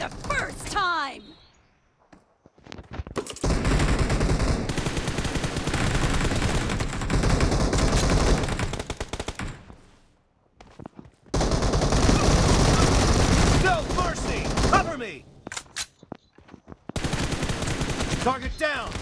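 Bursts of rapid automatic gunfire from a team deathmatch video game, long loud volleys broken by short pauses, with shouted voices between them.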